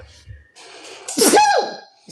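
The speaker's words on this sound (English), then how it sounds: "I feel a sneeze." A single loud sneeze bursts out midway, preceded by a short indrawn breath and faint background sound, with a tapering tail afterward.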